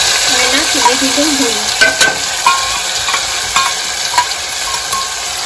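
Chopped onion frying in a pan for stuffed brinjal curry, cooked village style: a loud, constant sizzle close by, with occasional clinks and scrapes of a spoon being stirred through it.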